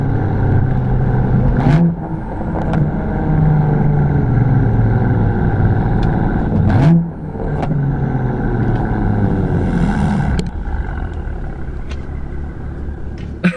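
A BMW fitted with ARM resonated downpipes and an equal-length mid pipe accelerates hard, its exhaust droning loud and close as revs climb through gear pulls, with brief dips at the shifts.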